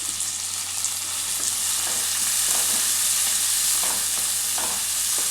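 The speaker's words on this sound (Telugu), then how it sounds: "ఇవి మంచిగా ఫ్రై కావాలి ఈ ఉల్లిగడ్డలో మంచిగా నీరంతా పోవాలి" Onions frying in a pan with curry leaves for a Warangal-style dish, a steady close sizzle with occasional soft crackles and stirring scrapes throughout, no voices.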